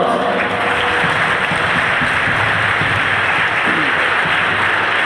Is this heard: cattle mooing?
no